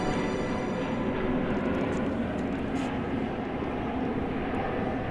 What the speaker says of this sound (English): There's the flight from Wichita Falls of which we spoke. Touching down after 22 minutes